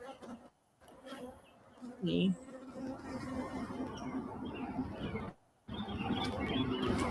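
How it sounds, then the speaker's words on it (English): A large swarm of honeybees fills the air with a dense, continuous buzzing drone, close and steady, broken by a couple of brief gaps and faint handling noise. "That's a lot of bees right there."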